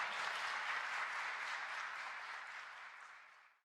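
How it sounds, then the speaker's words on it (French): Sustained audience applause at a geopolitics conference, a dense wash of many hands clapping steadily before tapering off and ending abruptly, with no talking over it. "The era of the Monroe Doctrine is over. The relationship, that's worth applauding."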